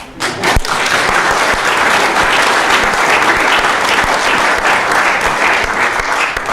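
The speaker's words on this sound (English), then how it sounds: "you can applaud this one if you want" A lecture audience breaks into loud, sustained applause, a dense wash of clapping that fills the whole stretch from start to finish.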